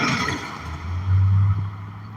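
A Kia K5 wagon passes in traffic, its low engine and tyre rumble swelling briefly as it goes by close, then easing back into the steady traffic noise.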